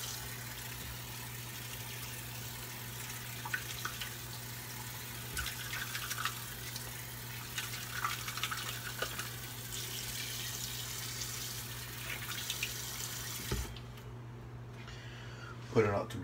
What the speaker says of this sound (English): I'm gonna rinse off my puck.